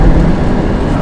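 A 1985 Audi 200 Avant with a five-cylinder turbo quattro engine accelerates in third gear, a loud, steady, full-bodied engine roar heard up close from inside the car for about a second.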